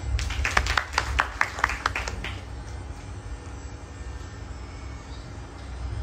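A kirtan audience at a Gokulashtami festival claps in a lively burst for about two seconds, then the applause fades into a low, steady hall hum.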